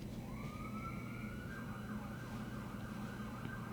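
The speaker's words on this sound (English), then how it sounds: "Oh, there's sirens." A siren wails with a rising, sweeping tone over a steady low rumble, faint and distant rather than close by.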